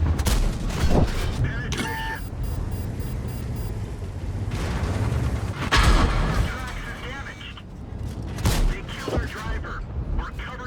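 Tank gunfire in a tank video game, including a Panzer 7: booming cannon shots and heavy rumbling explosions over continuous battle noise, close and loud.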